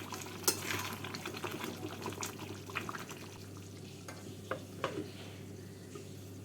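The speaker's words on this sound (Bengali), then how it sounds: "গরম মশলা গুঁড়ো আর ধনে পাতা দিয়ে নাড়াচাড়া করে দু মিনিট ঢাকা দিয়ে রেখে নামিয়ে তৈরি হয়ে যাবে মাটন মালাই কোফতা" A spoon stirring mutton malai kofta in a pan after garam masala and coriander leaves go in, with soft scraping, light clinks and a faint sizzle, close and quiet over a low steady hum.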